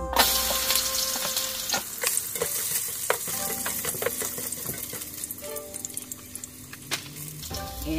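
Garlic sautés in hot cooking oil with a loud, continuous close sizzle, broken by scattered clicks and scrapes from stirring; no voices.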